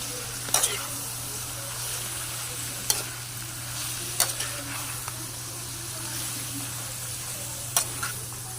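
Paklay from Cebu being stirred in a cooking pot over a steady low simmer hiss, with scattered sharp scraping clicks of the utensil against the pot, close and moderately loud.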